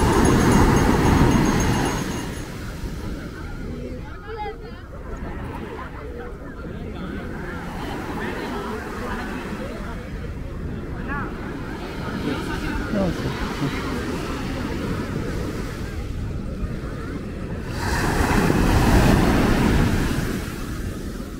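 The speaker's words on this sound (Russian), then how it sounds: "Так, вот океан." Surf from the Bay of Bengal at Marina Beach in Chennai rumbles steadily under heavy wind buffeting on the microphone, swelling louder at the start and near the end, with a voice talking over it.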